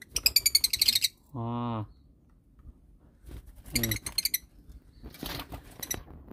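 Lovebirds chirp and squawk in sharp bursts while being caught by hand in Kalimantan, with a harmonic squawk and bright clustered tweets, close and loud, alongside brief exclamations from a person.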